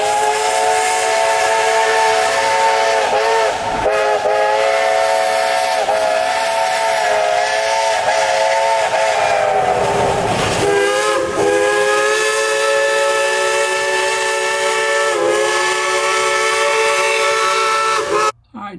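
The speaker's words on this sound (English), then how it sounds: "one by one they'll blow their whistle just for me" Several steam locomotive whistles at the Cass parade of steam blow in overlapping, sustained chords. Loud and continuous for the whole stretch, they cut off abruptly right at the end.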